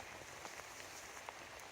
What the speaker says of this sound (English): You can see it's still raining.